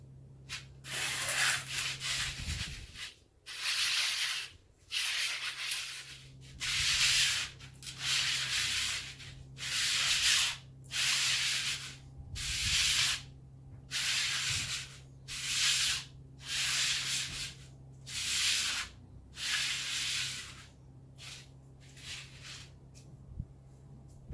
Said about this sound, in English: Next we'll move on to these sliders.